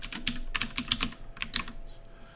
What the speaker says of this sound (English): I'm going to just type in slicer options